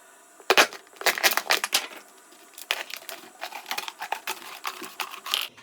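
A knife slices through a plastic bottle being made into a water rocket, giving close, irregular crackling and crunching bursts that come in clusters with short pauses between them.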